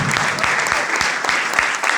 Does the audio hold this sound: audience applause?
yes